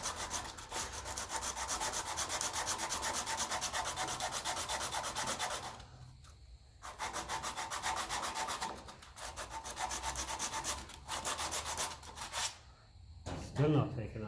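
Rhythmic hand sanding strokes flatten bodywork on a Ferguson 20 TEF diesel tractor, a close scratchy rasp in long steady runs with brief pauses, and a voice speaks faintly at moments.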